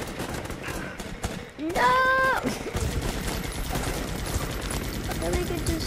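Rapid gunfire bursts from a shooting video game crackle through the scene, joined by a sharp shouted voice and a brief rising electronic tone.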